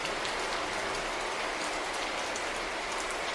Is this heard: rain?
yes